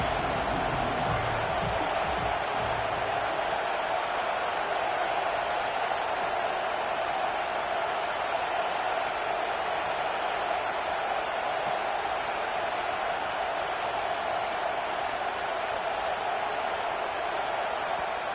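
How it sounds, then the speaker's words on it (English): A huge football stadium crowd in Happy Valley roars on third down, a dense, sustained wall of distant cheering noise that barely varies in level. "Here comes the noise from this big crowd in Happy Valley on 3rd down."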